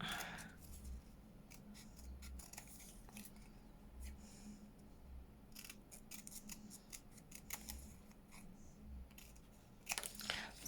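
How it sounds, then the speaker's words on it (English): Scissors cutting paper to make junk journal cards, close and quiet, with repeated snipping and crisp crinkles in uneven bursts. "I'm just gonna cut this out."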